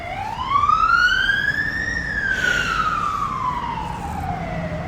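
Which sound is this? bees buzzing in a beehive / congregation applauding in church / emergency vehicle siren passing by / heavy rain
emergency vehicle siren passing by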